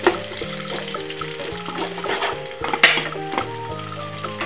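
Green chilies, chopped onion and cumin seeds sizzling in oil in a kadai, with a steady close frying crackle and occasional stirring clatter.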